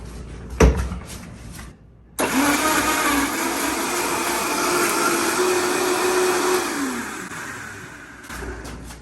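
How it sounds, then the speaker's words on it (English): A countertop blender whirs steadily for about six seconds, blending a tomato-based sauce for Mexican red rice, with a short clatter before it starts and a winding-down whine as it stops. "And then we're just going to blend it."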